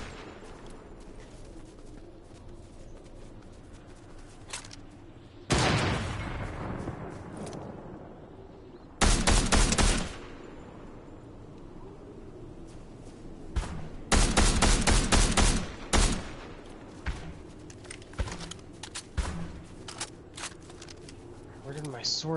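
Gunfire in Fortnite comes in several loud, sharp bursts, some long and rapid, others short and spaced out, amid game noise and a voice talking throughout.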